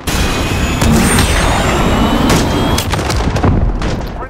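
Loud, dense gunfire and impacts from an AX-50 sniper rifle in a shooter video game, with sharp bursts over a constant roar of game noise throughout.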